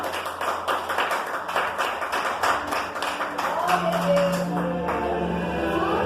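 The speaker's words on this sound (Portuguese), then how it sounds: "Quem pode aplaudir o Senhor Jesus?" Church congregation clapping during a prayer service, a dense patter of hand claps that rises and fills the room, mixed with voices and a sustained musical tone.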